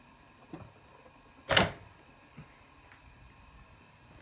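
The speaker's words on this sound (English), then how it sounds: "I'm going to remove the top cover of this machine, which is very easy on this model." Top cover being removed from a Kenmore 158 series sewing machine: a few faint plastic and metal clicks with one sharper clack, spaced out over a quiet background.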